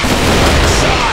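Gunfire from a CrossFire video game trailer, featuring weapons such as a gold M4A1 rifle and CR21 storm rifle, in a loud, dense, continuous burst of rapid shots with no voices.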